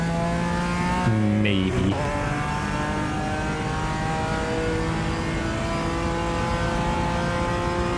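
Race car engines in a racing video game scream at high revs, a dense, loud, continuous tonal whine with a sharp gear-shift dip and pitch jumps early on, while a voice speaks briefly.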